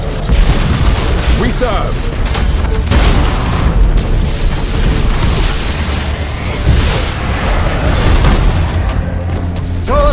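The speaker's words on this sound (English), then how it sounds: "Initiate Thunderhawk bombardment!" Thunderhawk bombardment in the space strategy game Battlefleet Gothic Armada 2, heard as a dense, continuous barrage of booming explosions and bursts with a voice calling out over the din.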